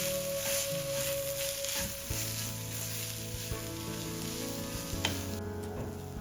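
Chilli paste mixed with tomato ketchup sizzles steadily in a pan while it is stirred, a continuous close frying hiss with a faint tonal hum running underneath.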